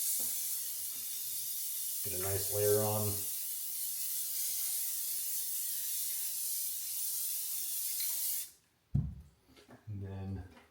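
A can of spray adhesive sprays a long, steady hiss onto panels for a home theatre build, then sprays again briefly near the end, with someone talking over it in short bursts.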